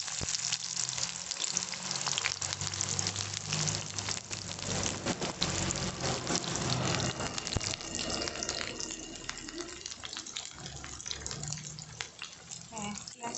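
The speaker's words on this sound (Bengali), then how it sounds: "এবার আমি পেঁয়াজটা দিচ্ছি।" Onion dropped into hot ghee and oil for chicken pulao fries with a loud, steady sizzle and crackle, stirred now and then, close up throughout.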